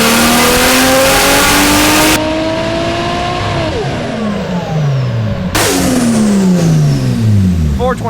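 Turbocharged Toyota JZX110 Mark II engine revs hard on a boost run, loud and close, climbing through rising pulls with gear shifts and a drop in pitch, while people talk over it.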